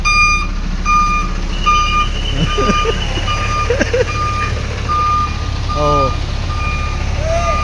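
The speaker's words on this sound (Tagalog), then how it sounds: "Yung mga driver natin malupitan kung umatras." A truck backs up in a tight space, with evenly spaced reversing beeps sounding over a low engine rumble; a person's voice cuts in briefly now and then.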